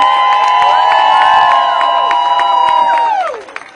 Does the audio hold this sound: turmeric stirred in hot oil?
no